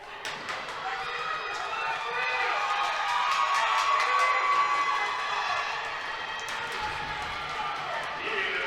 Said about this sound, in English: And the crowd cheering Butler on.